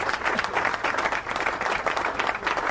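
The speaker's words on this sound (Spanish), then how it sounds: "vamos a agradecer y despedir con un aplauso" An audience applauds to thank and send off a guest, a full, even round of clapping from many hands, steady and fairly close for its whole length.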